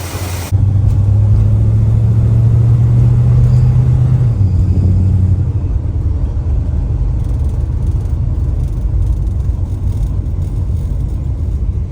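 Cold-blooded Mopar car engine idling and then pulling away on a test drive, a steady loud low rumble that drops in pitch after a few seconds and continues close and alone.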